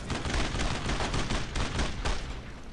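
Rapid gunfire from the World War II shooter game Brothers in Arms: Road to Hill 30, a loud, dense burst of overlapping rifle and machine-gun shots sustained for nearly three seconds.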